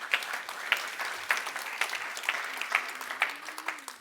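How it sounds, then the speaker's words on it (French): A church congregation claps during an Easter-themed sermon, with scattered, uneven applause heard at moderate distance and no talking. "on peut applaudir si on veut, on peut applaudir"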